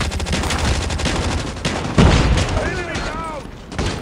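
Call of Duty: Front Line gameplay gunfire: continuous loud rattling shots and bursts with a heavier boom midway, close and dense, with a voice speaking over the shooting.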